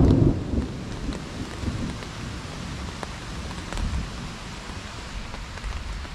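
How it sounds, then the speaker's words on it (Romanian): Thunder rumbles low and heavy at the start of a mountain rainstorm, heard from under a tarp shelter, then fades into a steady rain hiss with softer distant rolls. "Tună bine de tot."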